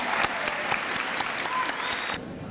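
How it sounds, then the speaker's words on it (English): Applause at an eighth grade promotion ceremony for subject award winners: a steady, dense round of clapping from an audience that stops abruptly near the end. "Let's give one more big round of applause to all of our subject award winners."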